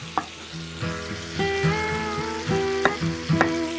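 Pieces of liver fry in a preheated frying pan with a steady close-up sizzle, punctuated by clinks and scrapes as they are stirred.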